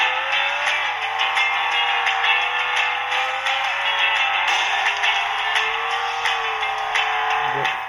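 Steady engine drone with shifting pitch from a racing car in Beach Buggy Racing, a game played on a smartwatch; loud, continuous and unbroken, with no talking over it.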